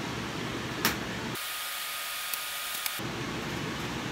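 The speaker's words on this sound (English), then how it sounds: "one thing you notice that I just did, I had to spray" A spray bottle mists a work surface before sawdust mushroom blocks are spawned, a soft continuous hiss over steady room noise with a couple of faint clicks.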